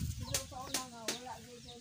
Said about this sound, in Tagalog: Yan yung mga manok niyo